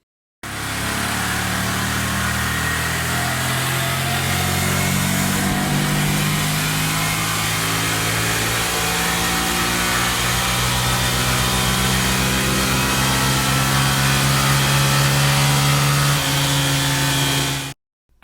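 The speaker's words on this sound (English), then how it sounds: "Time for a baseline dyno run." A Honda Grom motorcycle engine roars loudly on a dyno, held at high revs for the full duration, steady and droning with a slight climb, no voices present.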